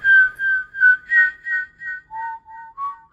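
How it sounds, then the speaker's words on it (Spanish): High-pitched eerie whistle as a horror sound effect, a series of about nine short sustained tones in a slow wavering melody, dropping lower toward the end, clear and alone. "Un silbido agudo, distante pero inconfundible."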